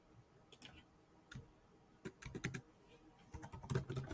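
Fingers tap on a computer keyboard while entering text in planning software, giving quiet clicking keystrokes in short irregular bursts separated by pauses, with a denser flurry near the end.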